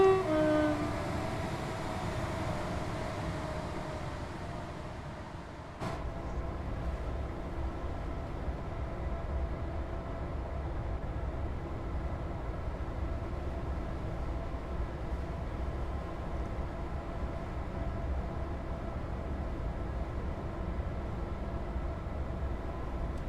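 Class 380 Desiro electric multiple unit in Train Sim World 4 on the Cathcart Circle, a steady low rumble of running gear and motor hum that holds throughout, with one sharp click near the start.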